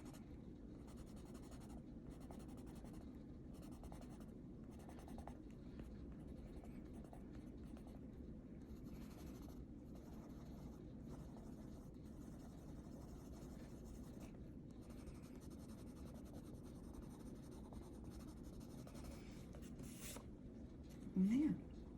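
A Derwent Inktense pencil scratches softly and steadily across paper in a long, faint continuous coloring stroke pattern, with a brief louder knock near the end.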